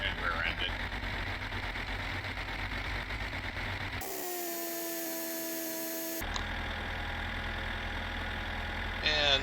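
A tractor engine idling and chugging in the video game My Summer Car, a steady mid-pitched drone with a brief muffled cutaway partway through, under continuous talk.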